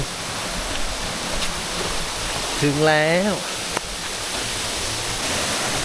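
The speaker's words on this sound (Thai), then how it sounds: "ที่นี่ก็คือน้ำตกเจ็ดคดใหญ่ จะเป็นแบบผนังหินล้อมรอบเหมือนสระน้ำนะฮะ" Jet Khot waterfall in Saraburi, a pool ringed by rock walls, pours with a steady broadband rush throughout, while someone speaks briefly over it midway.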